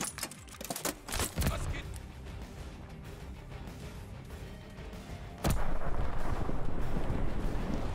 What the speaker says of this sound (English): Then you're going to jump while shooting the launcher.